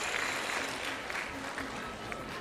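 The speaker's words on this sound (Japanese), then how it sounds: "拍手が鳴り止むことはありません。" Steady, distant applause fills an arena during Anna Bessonova's rhythmic gymnastics routine at the 2009 World Cup in Mie, a faint continuous patter of clapping from a large audience.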